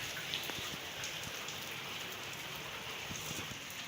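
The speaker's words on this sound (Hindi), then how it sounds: "बहुत ही तेज़ बारिश हो रही है" Heavy monsoon-season rain pours steadily onto the rooftop of a house, a dense, even hiss with scattered close drops spattering on the surface, continuous and fairly near with no voices.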